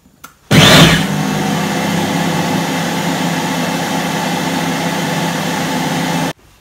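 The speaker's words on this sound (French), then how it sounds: "maintenant il va tourner en fonction pétrin, 2 minutes, pétrir." A Guy Demarle cooking machine kneads dough in its kneading mode, giving a loud, steady motor whir that starts abruptly and runs evenly for several seconds before cutting off, with no talk.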